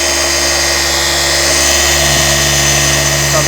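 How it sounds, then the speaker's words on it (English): Loud and close, a car paint polisher cutting clear coat hums in one continuous, even drone with no pauses. "little bit of pressure to the polisher."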